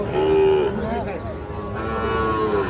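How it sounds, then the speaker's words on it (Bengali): Young bull calves at a cattle market give a couple of close, drawn-out moos over a low, busy background murmur. "এই যেগুলো দেখছেন এগুলো সবই কিন্তু ষাঁড় বাচ্চা।"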